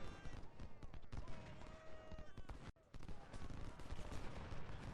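Dense infantry and sniper musket fire from a Civil War strategy battle at Crampton's Gap, a steady crackle of overlapping shots with scattered louder reports, loud and continuous with a brief gap midway.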